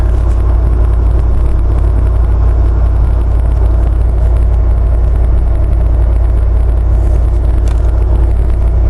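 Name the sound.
LS3 V8 engine of Jeep JK accelerating on road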